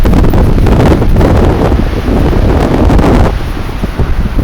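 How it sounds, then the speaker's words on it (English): Strong wind buffets the microphone outdoors, a loud, continuous low roar and rumble that dominates throughout with brief gusty swells. "It's ever so windy."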